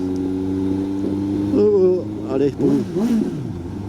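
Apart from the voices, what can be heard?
Suzuki GSX-S750 motorcycle engine revving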